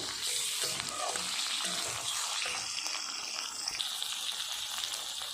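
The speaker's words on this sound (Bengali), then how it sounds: "ধুয়ে রাখা পরিষ্কার করা মাংসটা আমি দিয়ে দিচ্ছি। এবারে ভালো করে কষিয়ে নেবো।" Cleaned, washed meat stir-fried in a pan for a meat curry: steady close sizzle and crackle with scraping stir strokes throughout, no voices.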